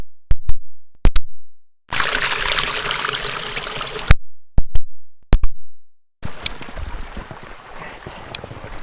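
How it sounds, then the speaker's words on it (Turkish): Snowmelt water trickles and rushes in two stretches, broken up by sharp clicks and knocks. "kar sularının bir sesini size dinletmek istiyorum kıymetli dostlar. Şu şırıltıya bir bakar mısın?"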